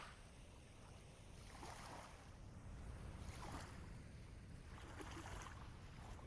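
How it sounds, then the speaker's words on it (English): Ambient water in the survival game Vintage Story: a steady, soft rushing wash that swells gently every second or so, with no voices. "The nice water noise."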